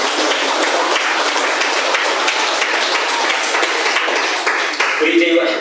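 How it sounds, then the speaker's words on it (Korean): A church congregation applauds during a Sunday service, a steady, loud wash of clapping that carries throughout with a brief ringing tone near the end. "영광의 박수로 이 시간 하나님께 찬송을 드리겠습니다"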